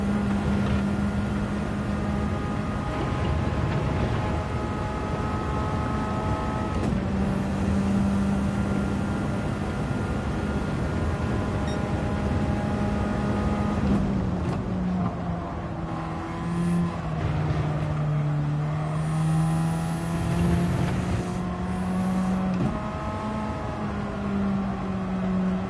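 A race car in Gran Turismo 7 drives continuously with a loud, sustained engine drone whose pitch rises and falls through gear changes and corners, with no talk over it.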